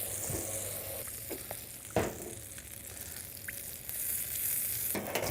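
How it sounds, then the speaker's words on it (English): A little butter sizzling in a hot pan while making pizza, a soft steady crackle with scattered pops and a few utensil taps, fairly quiet and close, no voices. "And then butter, just a little bit of butter, get that going."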